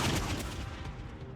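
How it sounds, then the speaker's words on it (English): A thunderous volley of gunfire from many guns at once in The Life and Suffering of Sir Brante, a loud dense burst that rolls and fades quickly. "The aged nobleman's last words are drowned out by a thunderous volley of gunfire."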